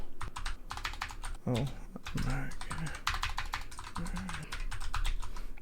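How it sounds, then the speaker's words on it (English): A computer keyboard clatters with quick bursts of typing as a search term goes in, close and steady, while someone talks briefly over the keys. "let's type it in"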